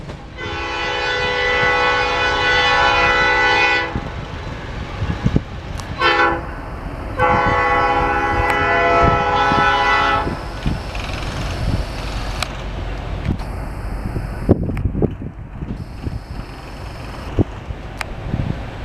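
Northbound Norfolk Southern mixed freight train passing in Marion, Ohio, its loud air horn blaring in several long blasts over the rumble and clatter of rolling freight cars, with wheel and wind noise continuing after the horn stops.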